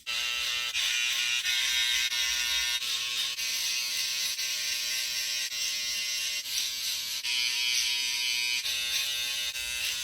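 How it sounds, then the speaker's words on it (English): An electric foil shaver buzzes steadily and close up while trimming a beard on the neck, its high whine holding for the whole stretch with slight shifts as it moves. "so I'm using a foil shaver to get it down to skin."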